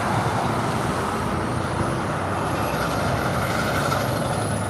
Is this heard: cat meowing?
no